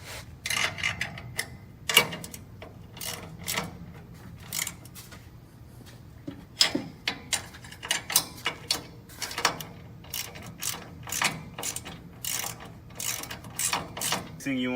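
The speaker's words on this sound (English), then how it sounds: "you want to tighten the bolts with a 9/16 size wrench and socket wrench" Bolts on a Slope Mower TREX plow being tightened with a 9/16 wrench and socket wrench, a close run of quick ratcheting clicks and metallic taps in uneven bursts.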